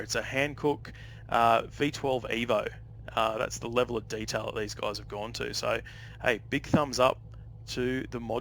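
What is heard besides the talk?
No everyday noises stand out.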